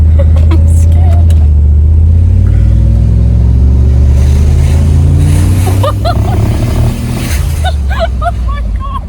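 A 700 horsepower LS1 V8 in a car runs loud and close, its low engine note rising and falling as it revs. People talk and react over it.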